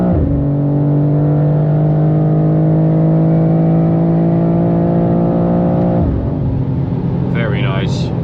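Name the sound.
BMW M2 G87 accelerating in fourth gear on the Autobahn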